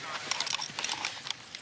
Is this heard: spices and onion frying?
no